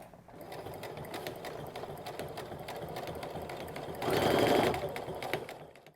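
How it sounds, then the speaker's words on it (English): A sewing machine runs steadily as a zipper foot stitches the outer panels of a fabric basket together beside the foam, a continuous close mechanical whir that swells louder for a moment near the end. "we're going to take the zipper teeth, or the zipper foot, and we're going to stitch straight down here, joining our outsides"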